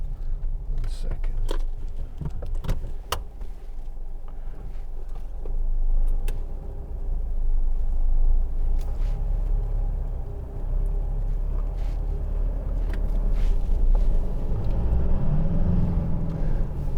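A 2015 Mitsubishi L200 2.5 DI-D pickup on the move, its low engine and road rumble running steadily throughout with scattered knocks and rattles from the cab.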